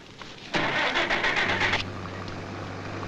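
A car engine cranks and catches with a loud burst, revs briefly, then settles into a steady low idle that continues to the end.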